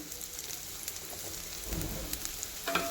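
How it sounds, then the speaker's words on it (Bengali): Onions sizzle and fry in a pan at home for a ghugni recipe, a steady soft crackling hiss that stays even and close, with faint stirring knocks and no voices. "আমি পেঁয়াজটাকে একটু ভেজে নিই"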